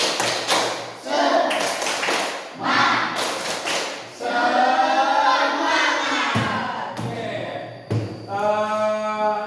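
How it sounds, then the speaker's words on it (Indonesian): A classroom of students performs a rhythmic clapping chant, bursts of sharp group claps alternating with voices chanting in unison, fairly close and loud. "Kita akan melaksanakan tepuk semangat supaya lebih semangat."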